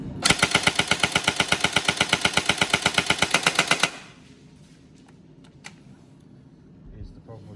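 A Tokyo Marui SGR12 AES electric airsoft shotgun fires a long full-auto burst of rapid, evenly spaced cracks for nearly four seconds, loud and close, then falls quiet apart from a few faint clicks.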